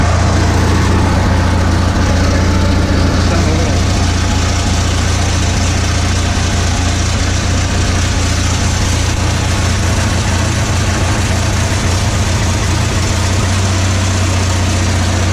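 Generator set engine with a faulty automatic choke, just started and idling in a steady loud low drone that holds for the whole stretch with no voices.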